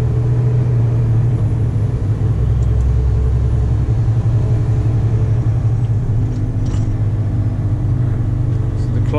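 A Scania G440 truck pulling a trailer rumbles steadily while driving on a dark, rainy afternoon, a loud, constant low engine drone heard from inside the cab with no change in pace.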